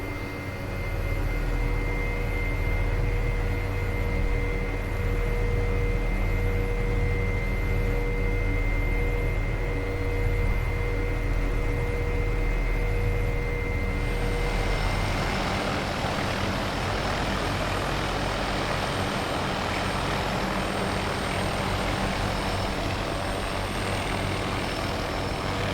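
An aircraft in the Prepar3D flight simulator rolls for takeoff at Adelaide airport: a steady engine drone runs throughout, then swells into a louder, broader roar partway through as power comes up.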